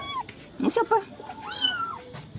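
One of three small kittens left behind by their mother mews several times, thin high cries coming close together, with a person speaking softly nearby.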